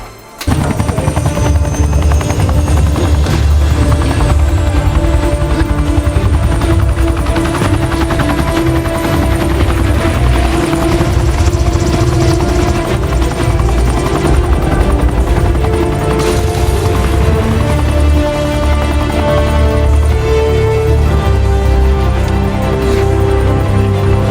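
A helicopter roars loudly and continuously, its rotor chop and engine whine filling the whole stretch without letup.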